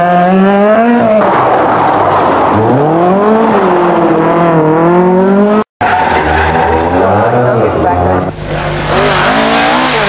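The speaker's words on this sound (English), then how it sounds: "Ken McKinstry fairly flung his Escort around, having installed a new manifold and exhaust at the service area." Ford Escort Mk2 RS1800 rally car with a new manifold and exhaust, driven hard on a rally stage: loud rising and falling engine revs through gear changes, tyre squeal, a brief dropout, and commentary talking over it.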